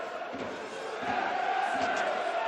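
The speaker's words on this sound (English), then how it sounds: "It's the Rovers fans you can hear singing to our left." Rugby league supporters of the Rovers at a Batley versus Featherstone match sing and chant as a steady, dense crowd roar off to one side, swelling slightly louder halfway through.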